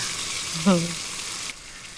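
Fish roe frying in oil, a continuous sizzling hiss with a brief tonal squeal near the start, then the sizzle drops slightly quieter.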